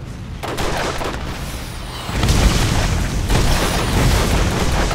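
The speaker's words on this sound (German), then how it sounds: "die Mine ist in die Luft geflogen" A mine blows up in the video game Borderlands, a deep booming blast that rises abruptly partway through and rumbles on, loud and close amid game noise.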